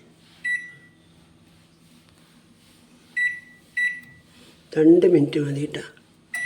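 Microwave oven giving three short beeps, then a louder hum with clunks as it runs, used for a pizza chapati with the oven already hot; someone talks between the beeps.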